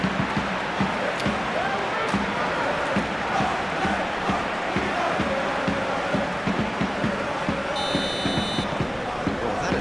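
A stadium crowd in PES 2021 roars steadily through a Champions League final between Paris Saint-Germain and Arsenal, a dense, constant wall of noise with a match commentator talking over it.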